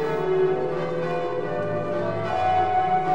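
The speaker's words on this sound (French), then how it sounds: "les cloches de l'église Saint-Martin sonnent à toute volée" Church bells of Saint-Martin in Pont-à-Mousson ring in full peal, overlapping tolls blending into a continuous resonant clangour heard from a moderate distance.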